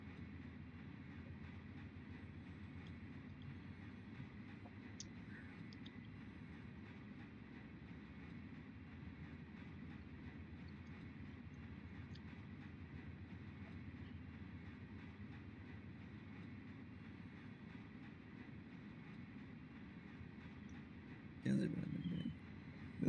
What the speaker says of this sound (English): grain train's a block away